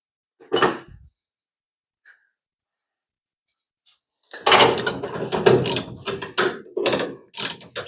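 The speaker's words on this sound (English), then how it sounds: "let's loosen up the nuts just a little bit" A wrench or ratchet loosening suspension nuts on a 1975 Plymouth Duster, a brief mechanical rasp, then a long pause before a burst of rapid clicking and metallic ratcheting with knocks, close and fairly loud.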